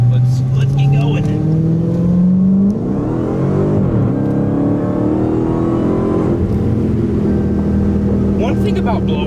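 A supercharged Dodge Hellcat engine hums and rises in pitch as the car accelerates while driving, with a steady interior drone and a voice talking over it.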